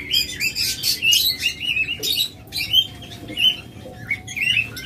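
Cage birds (budgerigars, diamond doves, lovebirds and cockatiels) chirp in dense, lively overlapping bursts, close and fairly loud, with steady low background noise.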